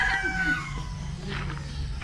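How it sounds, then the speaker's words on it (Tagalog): A rooster crows briefly amid a busy outdoor backdrop with other fowl clucking faintly nearby. "daming manok nila"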